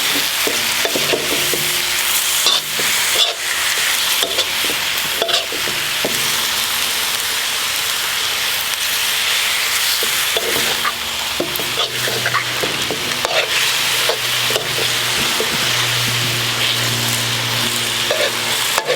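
Chicken and rice noodles for pad see ew stir-fry in a hot pan, a loud, close, continuous sizzle broken by scraping tosses and stirring clatter, with no talking.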